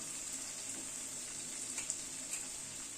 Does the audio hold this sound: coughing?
no